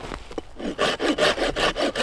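A hand saw rasps through wood in quick, regular back-and-forth strokes, close and clear, after a brief scrape at the start, at a winter snow camp at -10°C.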